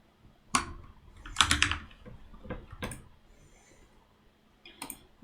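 A computer keyboard being tapped to enter a password during a Fedora 39 Linux setup: a few sparse, close keystroke clicks and short bursts separated by quiet pauses.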